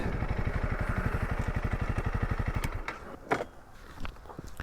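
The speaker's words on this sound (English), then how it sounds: "I'm riding a dual sport bike" A Honda CRF300L dual sport motorcycle's single-cylinder engine thumps in a fast, even pulse close by for nearly three seconds, then cuts out, leaving quieter clatter and a few knocks.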